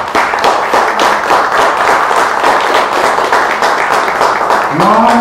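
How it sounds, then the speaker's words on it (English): A dense, loud round of applause for the authors at a book launch event, continuous and steady throughout, with a brief tonal sound rising near the end. "Let's give a round of applause to the authors."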